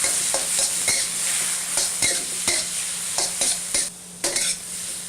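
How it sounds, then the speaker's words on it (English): Marinated pork and scrambled egg stir frying in a hot pan, a steady loud sizzle broken by repeated scraping and clanking strokes of a spatula tossing the food. "we'll add our marinated pork and the rest of that scrambled egg. We'll give it a quick stir fry."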